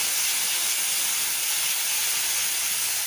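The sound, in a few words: water poured onto frying spices, hissing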